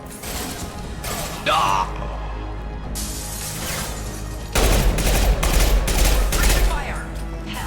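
Concussive shot and gunfire in the Mass Effect 2 video game: bursts of loud gunfire and a heavy concussive blast with crashing impacts, with brief shouted voices over the combat.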